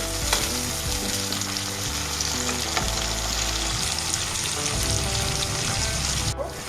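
Spicy semolina breakfast being stirred and fried in a pan on a gas stove, with a loud, continuous sizzle and repeated scraping strokes of the spoon close by. No one speaks.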